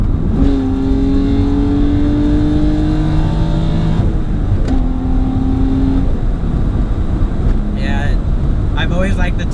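A 2005 Infiniti G35's V6, the same motor used in the 350Z, revs up loudly in several rising pulls, climbing and dropping back with steady engine tone throughout.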